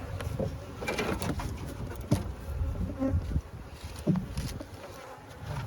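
Honey bees hum in a dense, steady buzz around an open hive during a split of a colony, close and continuous, with brief knocks and rustles of handling over it.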